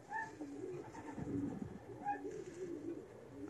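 Pigeons coo softly and repeatedly in a low, throaty rhythm, close by, with a steady background murmur of other birds.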